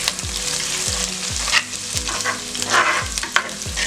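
Small onions, garlic and green chili sizzle and fry steadily in a pan, with a few soft stirring clunks and scrapes over the continuous hiss.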